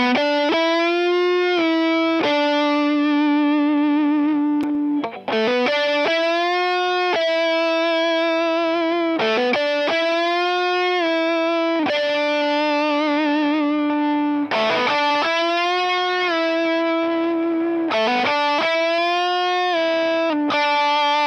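PRS Hollowbody II electric guitar with 58/15 LT PAF-style pickups, played through heavy distortion with effects: sustained chords and single notes in phrases separated by brief pauses, loud and alone with no talking.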